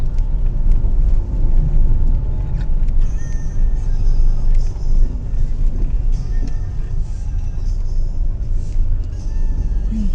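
A truck rumbles by on a rough mountain road near Malico, a steady low engine and road drone filling the whole stretch, loud and close, with no clear pass-by peak.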